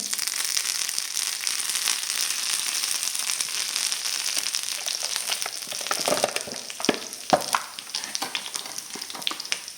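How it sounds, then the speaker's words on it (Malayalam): Sardines coated in a ground spice paste fry in a pan, giving a steady, close sizzle that turns into sharper pops and crackles near the end, with no talking. "നമ്മുടെ പൊതിച്ചോറിന് വേണ്ടിയിട്ട് മീനും കൂടെ നമുക്കൊന്ന് വറുത്തെടുക്കാവേ"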